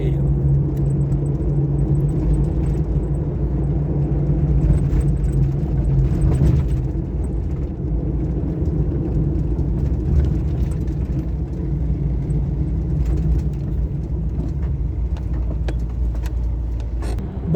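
Car driving through Brazilian streets, a steady close engine and road rumble from inside the cabin throughout, with faint scattered rattles and clicks over the drone.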